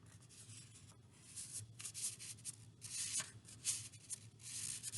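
Pencil or marker drawing the outline of a hand on paper during a chocolate-themed craft, faint scratchy strokes in short irregular bursts, close and quiet with no talk.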